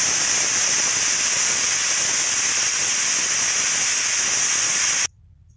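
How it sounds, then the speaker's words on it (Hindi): A pressure cooker on a stove, cooking masala chicken curry, whistles and vents steam in a loud, continuous hiss for about five seconds before cutting off abruptly, leaving only a faint background hum. "कुकर में हमारी 1 सीटी लग चुकी है"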